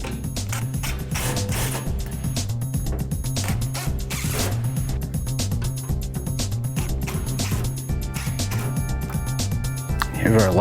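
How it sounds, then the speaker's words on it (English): A power driver whirs in repeated pulses while screws secure a caster plate to the bottom of a Laguna C|Flux cyclone dust collector drum, with a steady mechanical ratcheting hum close by throughout. "I'll put the plate on the bottom and then secure it in place with screws."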